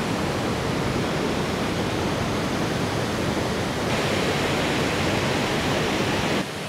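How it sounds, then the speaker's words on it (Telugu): Athirappilly waterfall in Kerala roars in a steady, loud, continuous broadband rush of falling water, unbroken across the whole stretch with no voices, cutting off abruptly at the end. "అతిరాపల్లి వాటర్ ఫాల్స్ పై నుంచి కింద పడుతూ ఉంటుంది"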